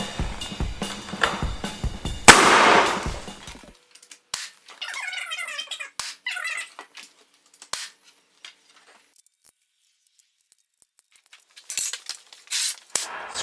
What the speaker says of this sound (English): right now I'm just going to use some longer nails to tack this rail into place